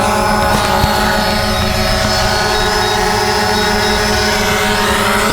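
A DJI Phantom drone flying in to land, its propellers producing a loud, steady, close buzzing whine that holds without a break throughout.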